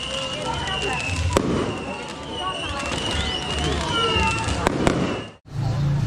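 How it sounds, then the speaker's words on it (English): Fireworks go off outside on an Indonesian street, sharp scattered pops and cracks ringing out at a distance over a steady murmur of street noise and voices. "Some fireworks up there."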